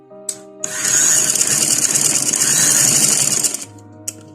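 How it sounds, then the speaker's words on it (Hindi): A sewing machine runs in one continuous burst of about three seconds, stitching the side seam of an open shirt-style kurta. The whirring motor and rapid needle chatter are loud and close, with a brief click before and after. "अब दूसरी साइड से भी आप इसी तरीके से सिलाई लगा लें"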